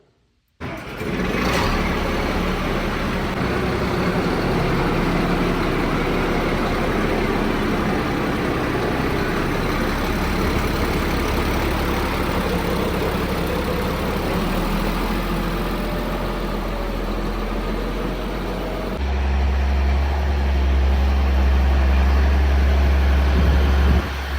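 A farm engine starts abruptly and settles into a loud, steady idle with a deep, even rumble, running close for some twenty seconds without talk.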